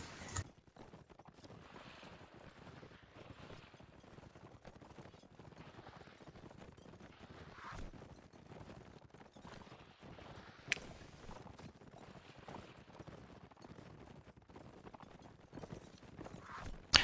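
Horse hooves galloping in a video game match of Castellan against Saracens, a fast, continuous clatter of hoofbeats throughout, with faint clashes and bursts behind it.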